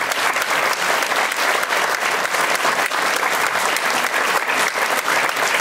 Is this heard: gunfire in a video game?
no